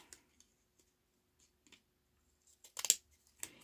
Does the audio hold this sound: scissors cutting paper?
yes